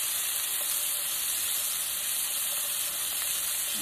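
Seasoned meat seasoned with smoked paprika, thyme and onion powder frying in a skillet, a loud, steady, even sizzle that continues without break.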